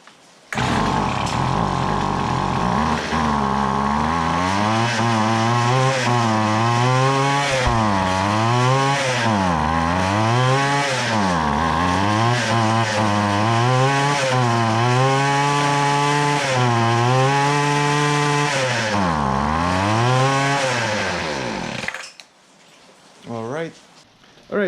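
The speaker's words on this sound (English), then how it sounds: "the Weed-Wacker is running" A gas-powered weed-wacker being restored, its two-stroke engine revving under throttle with a loud buzzing drone that rises and falls in repeated waves before cutting out near the end.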